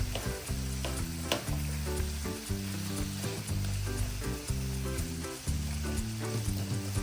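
Pork ribs sautéing in a marinade sauce in a pan, a loud continuous sizzle with steady bubbling and occasional sharp pops of a utensil stirring, no talk.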